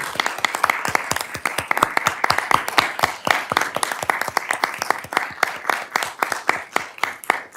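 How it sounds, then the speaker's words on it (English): Attendees at a Flagler school board meeting applaud a quartet, a lively stretch of many distinct claps from a moderate-sized room, steady and fairly loud for the whole span with no talking. "how about we have a round of applause for our quartet?"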